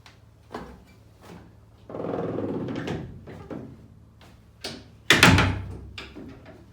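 Metal door being worked loose and pulled off a Massey Ferguson 1105 tractor during dismantling, heard as a series of rattles and scrapes, a longer grinding drag, then a sharp clanking bang near the end.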